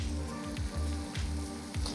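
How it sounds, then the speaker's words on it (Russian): Kataifi dough fries in hot butter in a pan, giving a quiet, steady sizzle with a soft rhythmic scraping about every half second as the strands are stirred. "Масло у нас разогрелось, и частями отправляем сюда наше тесто на зажарку."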